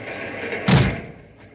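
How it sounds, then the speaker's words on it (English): A door swings shut with a single solid slam and thud midway through, close and fairly loud, followed by a brief fading rumble in an old radio drama scene. "Closed door, please."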